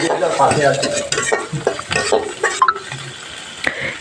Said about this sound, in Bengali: এখন আমি মাছগুলো নাড়াচাড়া করে ভেজে নিব